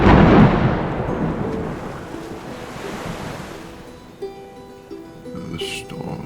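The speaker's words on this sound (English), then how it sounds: "The storm is coming." An outdoor storm in Jamaica rolls in: a heavy rumble of thunder or surf-like roar swells loudly and then fades into sustained wind and crashing noise, with faint voices underneath.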